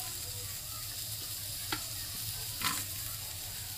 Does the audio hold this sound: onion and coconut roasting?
yes